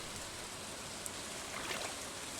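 Rain falls in the video game Stardew Valley, a steady, soft hiss of gentle rainfall that stays even and fairly quiet throughout, with no voices over it.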